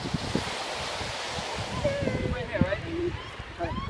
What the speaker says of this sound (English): it's really windy. We're at Nahan Beach.